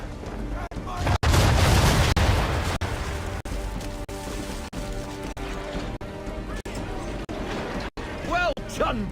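Ship cannons firing round shot in Assassin's Creed 3, a series of heavy booms and sharp blasts repeating through a naval battle, with shouted voices and game sounds layered over them.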